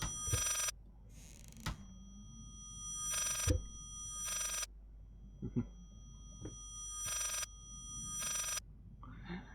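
A telephone rings in repeated bursts in the horror video game Layers of Fear, loud electronic rings with gaps between them, while quiet footsteps and faint ambient noises sit underneath.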